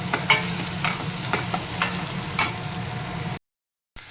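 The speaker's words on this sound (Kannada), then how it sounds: "ಈರುಳ್ಳಿ ಹಾಕ್ತಾಯಿದ್ದೀನಿ. ಚಿಕ್ಕದಾಗಿ ಹೆಚ್ಕೊಂಡಿರೋ ಈರುಳ್ಳಿ" Finely chopped onion frying in a pan for veg momos, a low sizzle broken by several spatula scrapes and stirring knocks, then a brief cut to silence.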